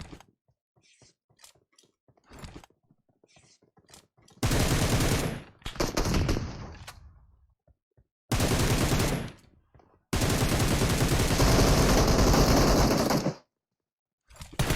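Loud bursts of automatic gunfire from a shooter video game, several long sustained volleys separated by pauses, with softer clicks and shots in between.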